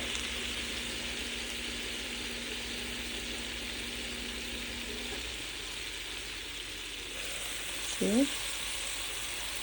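Water sizzles and steams in a hot pan to melt cheese, a steady loud hiss that continues throughout, easing after midway, with a brief spoken word near the end.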